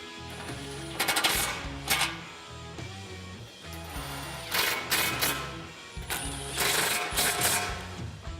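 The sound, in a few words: tightening skid plate bolts with 13mm socket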